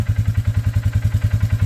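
A 2018 Polaris 450 Sportsman ATV engine idles steadily up close, a low, even, thumping pulse repeating rapidly with slight mechanical clatter and no voices.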